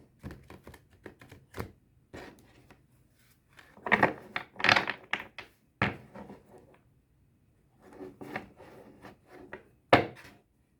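Guardian-angel tarot cards are shuffled, laid down and drawn on a table, giving soft, close taps, slides and flicks in scattered clusters separated by quiet gaps.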